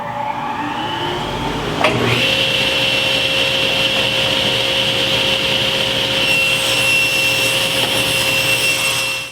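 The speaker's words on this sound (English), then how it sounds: "I've set the rib fence for 3 inches. I'm going to rip this down." A SawStop table saw rips a 3/4 inch MDF offcut to 3 inches against the rip fence, its steady blade whine rising sharply as the cut begins and holding loud and continuous to the end, with no voices.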